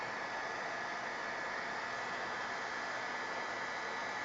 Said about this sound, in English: My cord is only so long on my heat gun, and it's plugged in way over there.